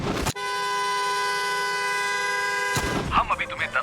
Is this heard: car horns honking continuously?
yes